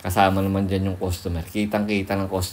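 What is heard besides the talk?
No distinct noise like a dog, phone or traffic.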